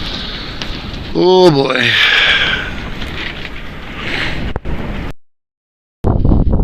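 Strong gusts of a 40 mph wind storm roar and buffet in loud bursts at an off-grid site, with a person speaking briefly over them before a short sudden silence.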